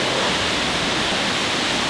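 Virgin Falls in Tennessee heard from the cave behind the falling water: a loud, dense, steady roar of cascading water filling the space, with no voices.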